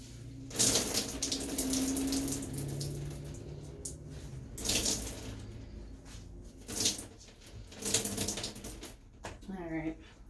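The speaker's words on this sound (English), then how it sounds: "hold it at an angle and start wringing it out" Water splashes and drips into a bathtub as clothes are wrung out by hand, coming in several distinct gushing bursts separated by quieter pauses, with a person talking between them.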